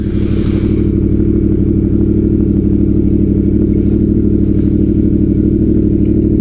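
A car pulling out, its engine a loud, steady low rumble that holds throughout, heard close by.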